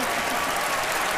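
An audience at a magic show gives steady, dense applause throughout, a broad wash of many hands clapping at once with no pauses.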